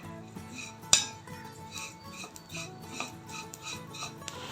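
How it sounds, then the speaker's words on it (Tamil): Vermicelli (semiya) roasting in a pan for payasam, with steady metallic scraping and clinking of a spoon against the pan, one sharper clang near the start, continuous and close. "சேமியாவை நல்லா வறுத்தெடுத்துக்கலாம்."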